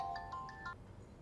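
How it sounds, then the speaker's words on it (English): A telephone rings in a home, several short repeated electronic ring bursts, clear and close, with no voices. "Back home, the man received a strange phone call."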